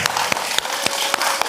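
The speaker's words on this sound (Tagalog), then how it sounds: "tawan na po ni palakpak po ang kada saro po sa tuya" Audience applause at a barangay gathering in Malansad Viejo, Libmanan: dense, steady clapping from a crowd, fairly loud and continuous, with a few sharper claps standing out.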